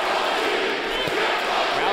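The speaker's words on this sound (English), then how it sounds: "Crowd begins to chant." Boxing arena crowd during a Golovkin versus Daniel Jacobs fight, a dense, steady roar of many voices that swells into a chant for Triple G, loud and continuous throughout.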